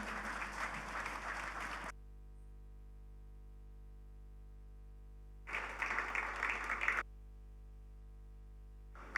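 Audience applause at an opening session of The Platform Nigeria, greeting the platform team and convener Pastor Poju Oyemade; two bursts of clapping from a large crowd, about two seconds each, separated by a quiet stretch.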